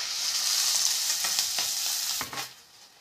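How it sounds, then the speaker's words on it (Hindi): Bottle gourd hisses and sizzles loudly in hot oil with cumin, with a few stirring scrapes near the end as the sizzle settles. "अब लौकी में हम हल्का सा तड़का लगाएंगे"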